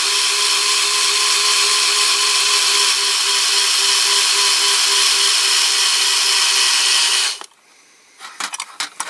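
A cordless drill low on battery whines steadily at high speed for about seven seconds, then cuts out, followed by a few faint clicks and knocks.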